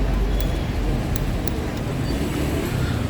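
Adiputro Jetbus 5 sleeper coach with a Euro 4 Mercedes-Benz OH1626 engine, heard as a steady low engine and road rumble throughout, close and continuous with no speech.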